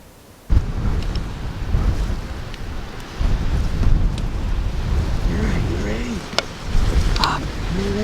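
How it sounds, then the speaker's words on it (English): Strong outdoor wind buffeting the microphone on a deer hunt, loud low rumbling gusts that start abruptly and keep pounding throughout, with people talking faintly underneath. "The wind's pretty bad."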